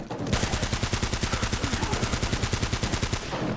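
Rapid automatic gunfire from a magazine being emptied in the video game Uncharted, a loud, evenly spaced burst of about thirty shots lasting around three seconds, with no voices.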